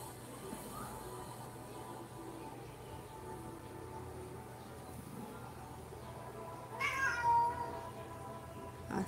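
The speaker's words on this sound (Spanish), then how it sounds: "Hasta el gato se mete en la conversación." Cat meowing in a quiet room where embroidery work is underway, a faint, brief meow or two rising near the end over low background hum, with no talk.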